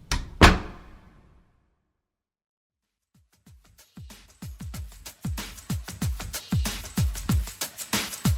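A door closes with a single sharp thud that rings out and fades, followed by silence and then a run of quick, rhythmic thumps that grow steadily louder.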